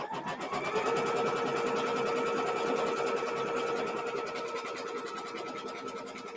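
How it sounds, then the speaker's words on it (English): Sewing machine stitching out a step of a Starflower mini quilt block, a close, steady rapid mechanical whir and needle chatter that runs without pause and fades slightly near the end. "Now we'll just go ahead and stitch out step number 5."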